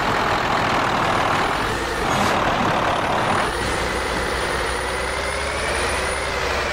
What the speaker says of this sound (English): there you can hear all the whistling of the turbo and everything.